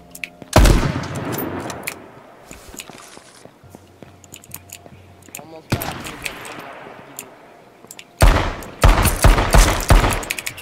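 Gunfire in the video game H1Z1 Just Survive: loud bursts of rapid shots at the start, mid-clip and in a dense volley at the end, with quieter stretches of talk between them.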